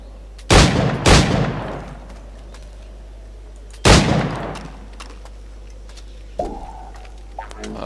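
Gunfire from target shooting in Assassin's Creed IV: Black Flag comes as loud, sharp single shots, two close together and a third a few seconds later, followed by fainter mechanical clicks of reloading.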